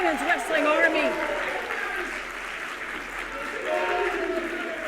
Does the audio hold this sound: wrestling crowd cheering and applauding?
yes